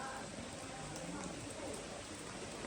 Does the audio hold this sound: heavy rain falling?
yes